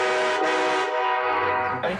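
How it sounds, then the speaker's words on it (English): A loud, sustained 152-decibel train horn blares with a steady multi-tone chord, holding for about two seconds before cutting off abruptly. "This train horn is 152 decibels. That's louder than a jet engine"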